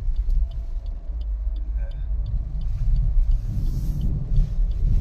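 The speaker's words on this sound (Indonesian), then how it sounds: "Oke, ini saat akselerasi ya." A Suzuki New XL7 Alpha Hybrid accelerates, heard from inside the car as a steady, loud low engine and road rumble that builds slightly over a few seconds.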